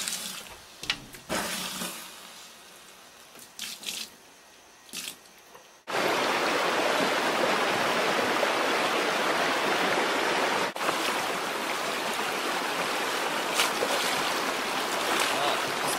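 Stream of high, cold glacier water in the mountains: scattered splashes and knocks at first, then a sudden, loud, steady rush of flowing water that continues close and unbroken to the end.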